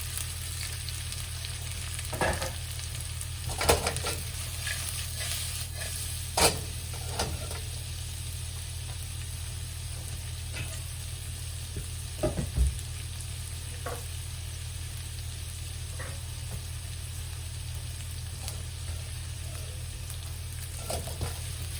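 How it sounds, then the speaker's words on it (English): Steady, quiet sizzle of peppers and carrots light frying in a wok on a stove wok ring, with occasional clicks and clatters of stirring over a low constant hum. "I usually start by light frying these."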